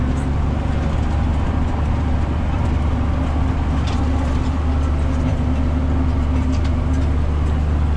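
A tractor drives steadily and turns across a third-crop alfalfa field while tedding hay, its engine giving a loud, continuous low rumble with no break from start to end.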